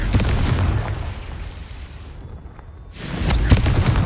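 A Confringo blasting curse goes off in Hogwarts Legacy as a loud, rumbling blast with a broad roar that fades to a brief quieter gap before another burst of booming impact noise.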